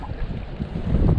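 A short burst of strong wind at a fishing spot rumbles against the microphone, a low, rough blustering that builds slightly toward the end.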